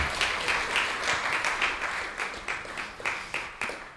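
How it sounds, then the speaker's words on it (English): Moderate audience applause in a temple hall during an ISKCON Dallas gathering, a steady wash of clapping with individual claps pulsing through, fairly close and unaccompanied by talk. "Let's give Kante Prabhu a big round of applause."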